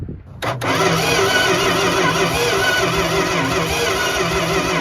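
A 1971 Plymouth Fury engine, long abandoned, running rough on one bad cylinder, a loud steady uneven idle that catches right after a brief start and carries on throughout.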